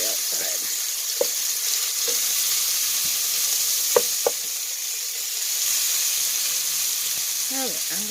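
Bacon sizzles and spits loudly in a pot for minestrone soup, with a constant frying hiss, occasional scrapes and clacks as it is stirred, and faint voice murmurs at times.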